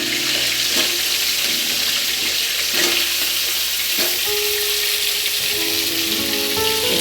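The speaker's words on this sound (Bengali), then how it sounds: "এবার আলুগুলোকে আমি একটু ভেজে নেব।" Potato pieces with turmeric frying in hot oil, a constant dense sizzle with occasional stirring scrapes and faint tonal clinks, no voices over it.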